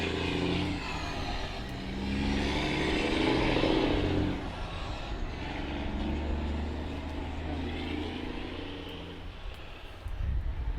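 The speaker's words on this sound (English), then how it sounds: "there goes the truck" An old truck pulls away across a junkyard, its engine rumbling and then fading with distance, and there is a hiss like an air brake midway. The sound is moderately loud and is not covered by speech.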